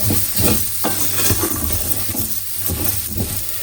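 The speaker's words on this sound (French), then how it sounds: "on va faire torréfier notre riz, c'est-à-dire qu'on va le nacrer plutôt" Arborio-style risotto rice toasts dry with chopped onions in a pan, a loud steady sizzle broken by repeated scraping stirs of a spoon, the rhythmic strokes rising over the crackle several times, no voices.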